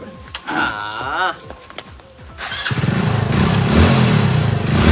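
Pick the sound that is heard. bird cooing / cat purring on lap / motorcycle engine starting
motorcycle engine starting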